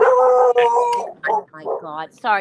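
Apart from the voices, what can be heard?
dog howling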